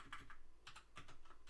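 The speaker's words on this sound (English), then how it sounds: "That's enough typing for a minute." A computer keyboard clacks in short bursts of quick keystrokes while PHP code for Symfony commands is being written, faint and close, with brief pauses between runs of typing.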